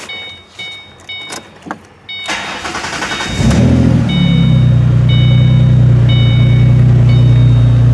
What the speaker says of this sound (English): So let's see if we have any throttle response.